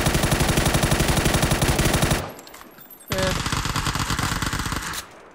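An Uzi submachine gun fires aimed down sights in PUBG: two long, rapid full-auto bursts, loud and close, split by a brief pause.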